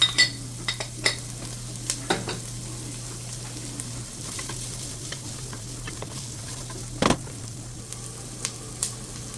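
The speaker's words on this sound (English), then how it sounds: "Add a little bit of onion or some pepper to it." Onions and peppers sizzle and are stirred in a pot for chili, a soft steady fry with a low hum beneath and scattered scrapes and clinks, one louder knock near the end.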